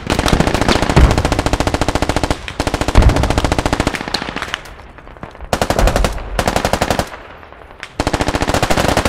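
Machine gun fire in the Squad video game, heavy sustained automatic bursts close and loud, several long strings of rapid shots broken by short pauses, with no talk over them.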